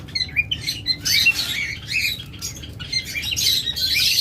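Lovebirds and budgerigars chirp and squawk together at a bird farm, a busy flock of overlapping high calls that runs throughout without a pause, with no talk over them.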